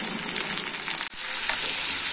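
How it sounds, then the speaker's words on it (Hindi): Homegrown onions fry in a pan over low heat, giving a steady, close hiss of sizzling with a brief dip midway and no voices. "फिर भी थोड़ी देर सिम में मैं इसको भूनती हूँ"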